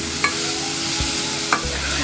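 Carrots sautéing in a pan for carrot pulao, a continuous soft sizzle with two brief scraping stirs of a spoon, close up with no talking.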